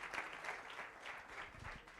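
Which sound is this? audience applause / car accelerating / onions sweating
audience applause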